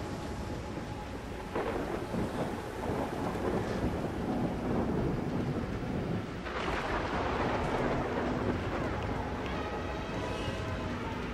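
A thunderstorm with rain in the video game Far Cry Primal: steady rainfall under rolling, rumbling thunder that swells strongly twice, loud and close.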